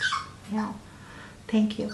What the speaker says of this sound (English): Poppy, please stop stop. Sorry for the dog.